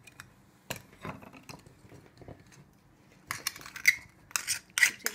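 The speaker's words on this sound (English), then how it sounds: "You scrape it out like this, and then you undress the scallop like this." A spoon scraping scallop meat from a Norwegian scallop shell, giving sparse scratchy clicks and scrapes, quiet and close, with a few louder scraping bursts toward the end.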